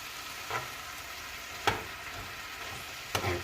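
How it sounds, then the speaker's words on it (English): Soft scraping stirs of a sweet potato cheeseburger casserole in a pan, three distinct strokes over a faint sizzle, close and quiet. "Okay, I'm gonna stir this all up a little bit."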